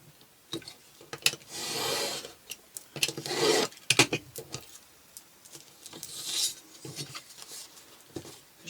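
Thin cardboard from an appliance box is cut straight, giving a few short rasping, scraping strokes with brief pauses and light taps, close by and fairly quiet.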